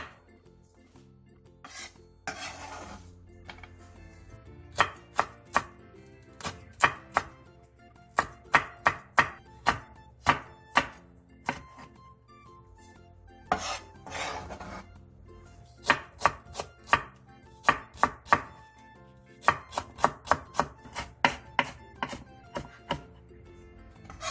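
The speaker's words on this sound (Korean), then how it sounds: "양파 2분의 1개를 채 썰고 청양고추 2개, 홍고추 1개, 대파 한 개는 어슷썰기 해주세요." A knife slices onion, chili peppers and green onion on a cutting board, with rapid rhythmic chopping strokes in several quick runs separated by short pauses, close and crisp, and no talking.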